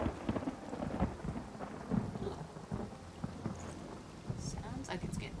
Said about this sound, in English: Sounds like it's getting ready to storm.